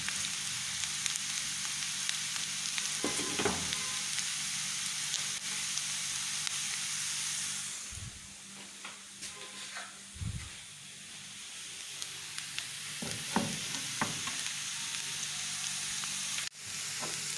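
Onions sizzle in oil in a pan for a spicy fish curry, a steady bright hiss with a few scraping stirs and clinks of a utensil against the pan, briefly quieter midway before the sizzle returns.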